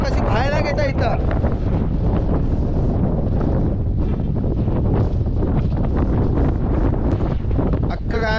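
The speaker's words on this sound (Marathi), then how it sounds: "हवा पाहता का, हवा कशी बाहेर घेता इथं." Strong monsoon wind at Lonavala hill station buffeting the microphone, a loud continuous roar with gusty rustle throughout, with a voice talking over it.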